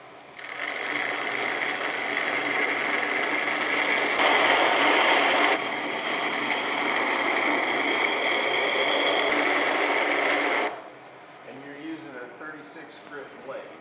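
A grinder cuts a hollow in a workpiece, a steady buzzing whine that runs about ten seconds with a shift partway through, then stops abruptly, leaving someone talking quietly.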